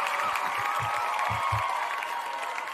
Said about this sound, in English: Let's give him one more round of applause before you give your plugs.